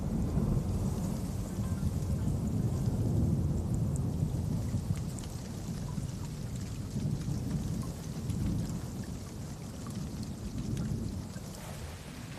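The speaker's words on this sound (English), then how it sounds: "By the time the rains arrive" Steady rain pours down through a thunderstorm, with broad low rumbles of thunder rolling beneath the constant hiss of falling drops, continuous and enveloping with no voices.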